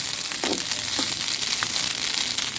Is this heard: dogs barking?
no